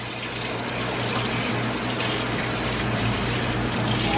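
Running water from a tap pours steadily over oxtail bones in a kitchen sink, a continuous splashing hiss over a low hum, fairly close and alone.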